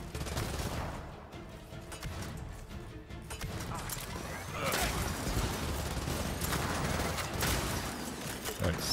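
Rapid bursts of gunfire crackle from Gears of War 4 combat, with repeated clattering volleys that grow louder in the second half, while a person talks over the shooting.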